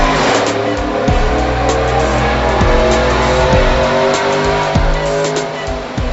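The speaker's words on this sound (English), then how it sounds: "Once we got the Trailblazer fired up, you could hear a major sound difference with the Cook's long tube headers and the Corsa catback" Chevrolet Trailblazer SS engine fitted with Cook's long tube headers and a Corsa catback exhaust, roaring loudly and steadily with repeated rev swells and sharp gear-change dips throughout, close and continuous with no talk.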